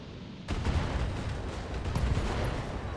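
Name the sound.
fire support artillery from the BattleTech video game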